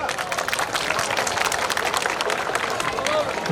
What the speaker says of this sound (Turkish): Değerli belediye başkanımızı bir kez daha alkışlayalım.